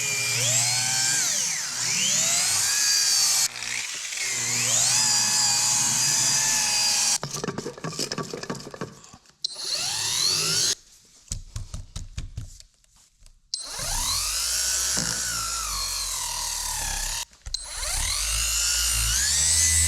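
A polishing machine works over a 2019 Range Rover, its motor whining and wavering in pitch, then cutting into choppy stop-start bursts and short silences before running steadily again, loud and close.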